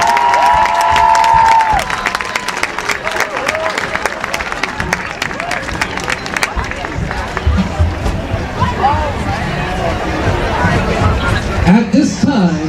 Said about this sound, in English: Ladies and gentlemen, please, a round of applause for the class of